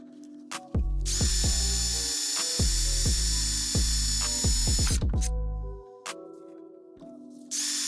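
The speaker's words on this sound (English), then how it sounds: "Right now I'm just drilling out these rivets on the back of this apron" A power drill whirs in repeated short bursts, spinning up and biting with a rising whine, close and loud, with brief pauses and clicks between runs, drilling out rivets on the back of a wrecked Corvette C7's apron.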